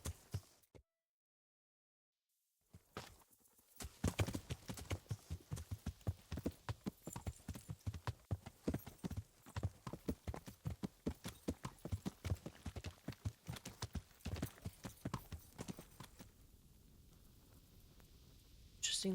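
A horse at a charcoal burners' camp in Kingdom Come Deliverance clip-clops with a steady, regular stream of hoofbeats after a brief silence, close and continuous for most of the stretch.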